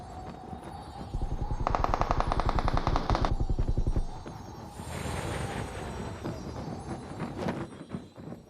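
Game gunfire in a battle royale match, with long rapid bursts of automatic fire up close, then a pause and more scattered shots, some fainter and farther off, no voices.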